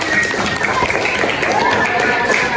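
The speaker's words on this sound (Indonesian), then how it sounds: "Tepuk tangan" Classroom applause for a student group during a small-group teaching session, a steady broadband patter of many hands clapping together throughout, fairly loud and close.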